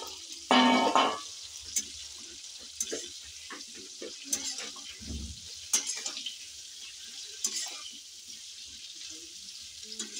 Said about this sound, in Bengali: আস্তে করে রাখবো, আস্তে করে ভাজবো, তাহলে আমার ফুলকপি ভালোভাবে সিদ্ধ হয়ে যাবে।